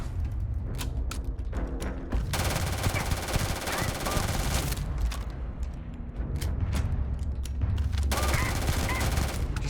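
Automatic gunfire in the video game Starfield rattles out in rapid bursts, loud and close, with short gaps between volleys and a few mechanical clicks in between.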